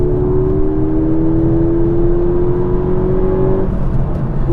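A 200 hp Peugeot RCZ accelerates hard onto a bypass, its engine a loud, steady droning whine that climbs slowly, then briefly drops as if shifting before carrying on.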